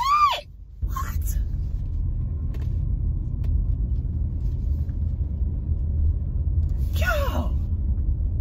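Heavy traffic from many cars produces a continuous low rumble close by, with brief voices at the start and near the end.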